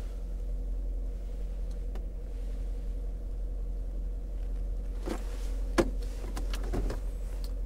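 A Range Rover's electric sunroof motor whirs open in several short bursts near the end, over a steady low interior rumble.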